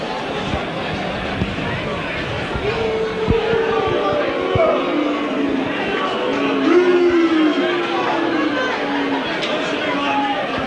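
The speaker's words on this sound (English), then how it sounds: "the crowd just exercising their right to vent their feelings" A rugby crowd at York versus Keighley, 1992, rumbles with a steady hubbub of shouts, jeers and calls that swell and fade, a few voices rising above the mass of noise.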